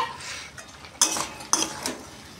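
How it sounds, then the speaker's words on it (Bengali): Fried eggplant and okra tumble into a pan of spices for a vegetarian bhindi curry, with two sharp metallic clinks from a utensil and a soft low sizzle between them. "ভেজে রাখা বেগুন আর ভেন্ডি আমি দিয়ে দেব।"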